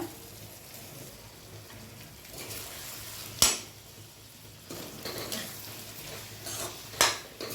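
Pasta pieces tossed with sauce and tomato ketchup in a pan are stirred with a utensil, giving soft scraping and shuffling with a couple of sharp metallic clinks against the pan, quiet and close.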